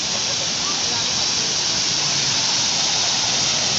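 A small hill stream rushes past close by, a loud, dense, unbroken roar of flowing water that fills the whole moment.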